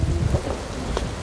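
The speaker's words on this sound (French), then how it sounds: "Il pleut." Rain falling steadily outdoors, a broad continuous wash with a brief louder spatter near the end, moderately loud and without talk.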